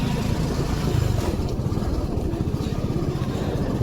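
An old vehicle's engine runs after starting, a close, rough, pulsing low putter that holds steady throughout.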